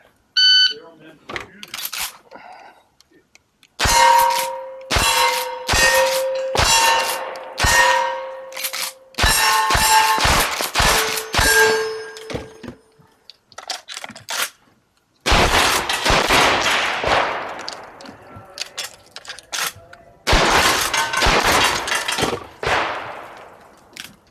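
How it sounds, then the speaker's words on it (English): An experimental firearm with experimental ammunition fires at a cowboy action shooting match as a rapid string of sharp reports, each followed by the ringing clang of steel targets, loud and close, coming in several volleys with brief pauses between them. "An experimental weapon with experimental ammunition."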